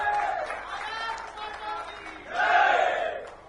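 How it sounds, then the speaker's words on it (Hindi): At a district public dialogue event in Kawardha, a crowd claps and cheers in honor of a guest on stage, a moderate wash of crowd noise that swells louder near the end, with voices mixed in. "मैं चाहूंगा जोरदार तालियां विजय शर्मा जी के"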